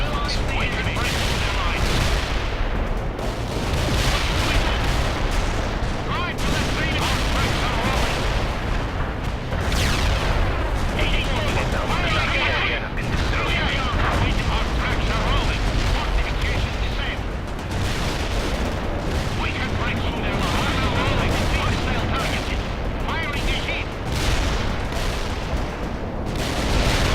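Artillery fire support in World in Conflict pounds continuously as dense, loud barrages of blasts and rolling gunfire, with game voices talking over the din throughout.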